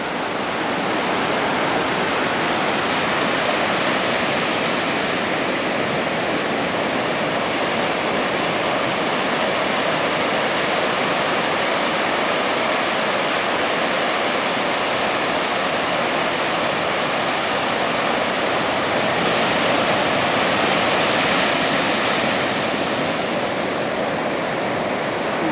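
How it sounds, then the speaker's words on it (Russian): Heavy ocean surf pounds the shore at Vagator, Goa, during Cyclone Ockhi, a loud, dense, unbroken roar of churning water with only slight swells in intensity, and no voices. "Такой волны здесь я еще не видел."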